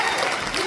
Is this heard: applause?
yes